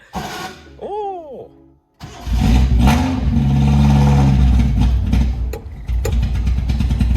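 A Japanese Nissan Sunny pickup truck with a carbureted engine roars loudly and steadily for several seconds after a brief voice-like whine at the start, the engine note sustained and close with a short dip near the end.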